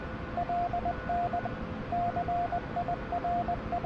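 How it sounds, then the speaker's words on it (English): Loud Morse code signal received over a Huey helicopter's radio in Afghanistan, steady beeping dots and dashes in irregular groups over constant radio hiss and engine rumble. "we're getting a loud Morse code receipt there, meaning we're probably on to the guy"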